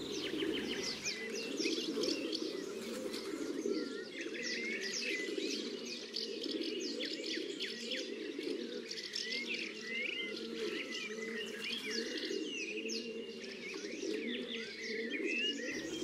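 Pigeons coo steadily close by in a retiree's garden, a continuous low cooing bed under bright chirps and tweets from wild garden birds, with no talk.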